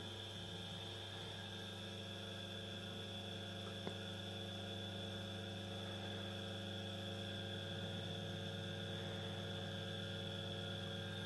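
A small 230 V single-phase induction motor running freely at speed, giving a steady, quiet mains-frequency hum with a faint whine, continuous throughout and alone.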